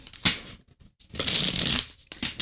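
A deck of tarot cards being shuffled in two bursts of riffling, a short one followed by a longer steady flutter with a brief pause between, close and fairly loud.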